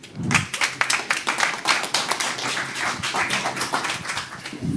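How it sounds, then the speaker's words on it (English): An audience applauds after a speaker is introduced at a United Nations computing event, a dense patter of many hands clapping at moderate distance that rises quickly and holds steady for several seconds. "Please give a warm round of applause."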